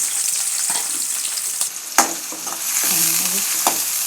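Onions with curry leaves frying in a hot pan for a dhaba-style alasande masala palya, a loud continuous close sizzle with a few stirring knocks and scrapes, no voices.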